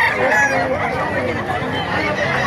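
Roosters crow repeatedly amid a dense, noisy crowd at a poultry market in Bocaue, Philippines, with constant chatter and clucking filling the background.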